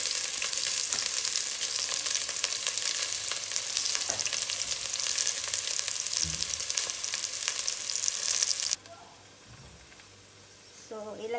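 Onion, mushroom and garlic sauté in a pan for homemade chap chye, with a loud, continuous close sizzle that cuts off abruptly near the end, leaving quieter clatter.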